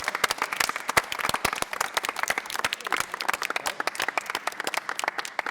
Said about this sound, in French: vous pouvez vous applaudir très fort parce que vous êtes une sacrée belle équipe